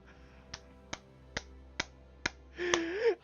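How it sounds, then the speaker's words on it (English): Five sharp, evenly spaced hand claps ring out close and crisp over quiet room tone, followed by a brief rising vocal sound at the end. "I'm clapping on that one"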